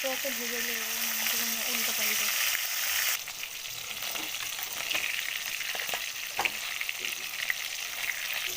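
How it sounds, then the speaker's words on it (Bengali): Fish pieces fry in oil in a wok with a steady, dense sizzle throughout. Near the start a faint tonal voice-like sound sits under it, and later scattered stirring clinks cut through. "মাছগুলো ভাজা হয়ে গেছে এবার তুলে নেবো"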